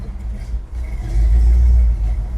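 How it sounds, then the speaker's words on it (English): A 1963 Chevrolet Bel Air with a 4-barrel carburetor pulls away, its engine a deep, close rumble that swells as it accelerates, with no talking. "We're gonna go ahead and put it in drive and take it for a spin down Ravenswood."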